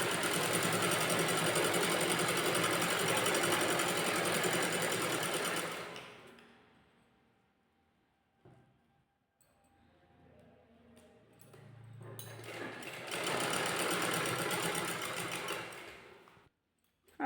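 A sewing machine stitches the inner seam of a net fabric kurti neckline, whirring loud and close in two long continuous runs separated by a quiet stretch of light handling sounds.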